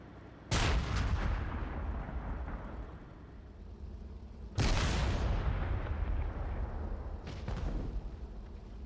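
Tank cannon fire in the IL-2 combat game during a long-range tank duel: two heavy booming shots a few seconds apart, each with a long rumbling tail, plus a lighter distant crack near the end.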